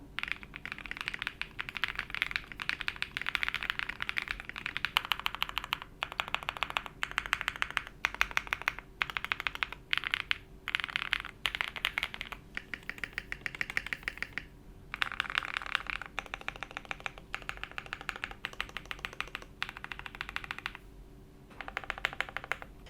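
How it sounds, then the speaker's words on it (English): Rapid, clacky typing on a Thera75 mechanical keyboard, bursts of keystrokes with brief pauses, close and crisp, no voices. "I personally really love the sound of this keyboard"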